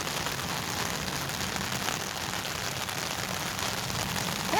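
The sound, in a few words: heavy rain falling on an umbrella at a grave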